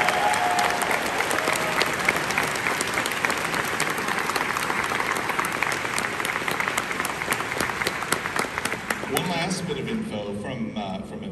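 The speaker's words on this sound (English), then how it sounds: "Give yourselves one of the biggest round of applause" Sustained, dense applause from a large convention audience at a closing ceremony, loud and steady throughout with crowd noise mixed in, tapering slightly near the end.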